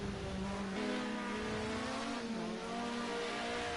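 Group A touring cars in the Project Cars racing game at full throttle down Conrod Straight at Bathurst, an unbroken engine howl with gear changes shifting the pitch, loud and close throughout with no voices.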